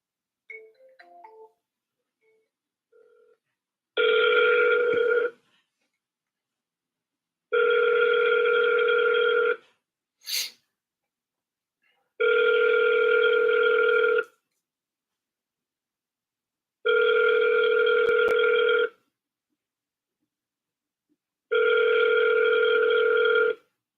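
Outgoing phone call ringback tone, five long even rings with steady gaps, clear and alone on the line after a brief faint click and beep at the start.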